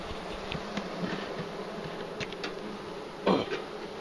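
Honey bees buzzing around an open beehive during a honeycomb search, a soft continuous hum with scattered nearer passes and a brief louder burst near the end, no talking.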